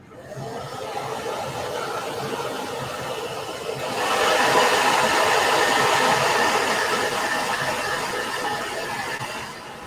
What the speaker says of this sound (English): I'm gonna dry this super quick.